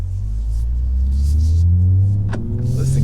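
A stock-exhaust Toyota Supra cruising, heard from inside the cabin: a steady, loud low drone and rumble with smooth engine tones that drift slightly in pitch, and no talking.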